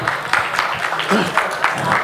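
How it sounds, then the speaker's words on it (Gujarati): A crowd at a live show claps continuously for a couple of seconds for a finalist, dense scattered hand claps with a few voices mixed in. "એક વાર આ ફાઇનલિસ્ટ માટે એક વાર જોરદાર તાળીઓ પાડજો"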